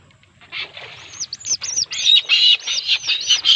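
A tikling, or barred rail, calls at night in a series of rapid, high chirping notes that grow louder and denser, heard clearly and fairly close with little else around.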